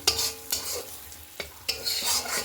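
Bean paste with nigella seeds stirred and fried in oil in a kadai, close and sizzling, with a few sharp scraping strokes of the spatula and no talk.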